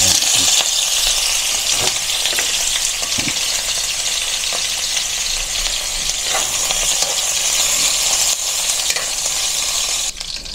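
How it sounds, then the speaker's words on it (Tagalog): Pork frying into chicharon in a pan for ginisang monggo, a loud continuous crackling sizzle with occasional sharper pops and stirring scrapes. "I-chicharon muna natin po yung ating pork para sa ating munggo."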